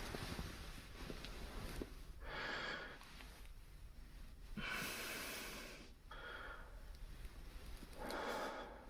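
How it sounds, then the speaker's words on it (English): Close, breathy inhales and exhales sit right at the ear in a slow, even rhythm, with several soft puffs of air and faint rustling between them. "You don't have to breathe right into my ear, you know."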